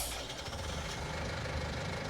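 Tractor engine in Farming Simulator 19 idling steadily, a low continuous rumble, close and moderately quiet, with no voices.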